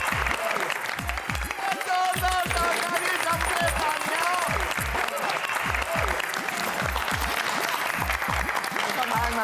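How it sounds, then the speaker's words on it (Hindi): An audience breaks into loud, sustained applause, with dense overlapping clapping continuing steadily throughout at a sitcom award felicitation. "आपके इस उपलब्धि के लिए एक बार फिर से जोरदार ताली।"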